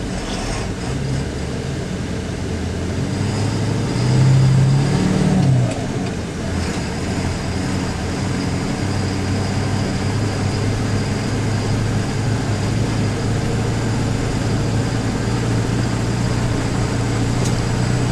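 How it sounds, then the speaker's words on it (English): A truck engine runs with its PTO engaged to drive a fertilizer spreader, a steady mid-pitched mechanical drone that swells briefly early on, then holds at a constant loud level. "I'm going to turn the PTO on"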